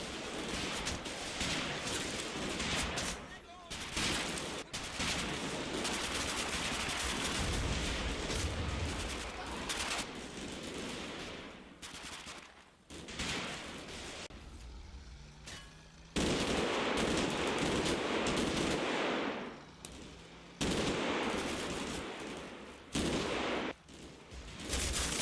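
Machine gun fire in the Combat Mission Final Blitzkrieg war game, with MG42s giving heavy cover during an infantry advance. Long stretches of dense, rattling bursts are broken by brief pauses and sudden resumptions, steady and loud throughout.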